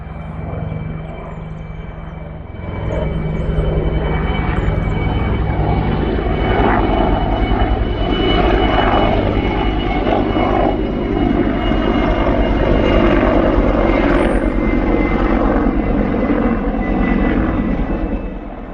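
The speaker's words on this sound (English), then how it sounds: "Maybe we'll get a close-up of an Apache helicopter." An Apache military helicopter passes overhead with a steady, broad rotor and engine roar that stays loud and fairly constant throughout, without a clear approach or fade.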